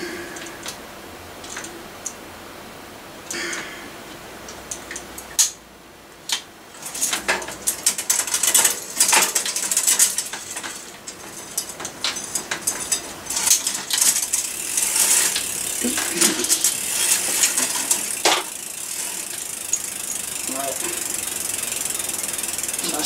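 Gears on a Saracen Raw mountain bike click and ratchet as the derailleur is adjusted: irregular runs of close, crisp ticking and clattering, starting sparse and becoming denser, with occasional louder clacks.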